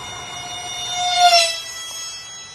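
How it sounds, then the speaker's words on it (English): A thin, high-pitched electric whine rises and falls as a small ducted-fan RC model A-10 jet passes at a distance, swelling briefly then fading. "you can really hear just those ducted fans, that little whine"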